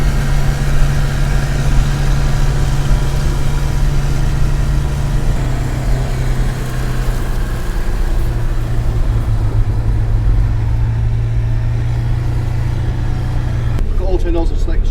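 A modern crop sprayer drives across a field, its engine a loud, steady low drone with a slight shift in pitch partway through, while people speak over the running noise.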